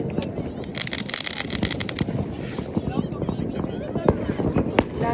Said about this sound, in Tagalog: Ang daming putok, ang daming putukan.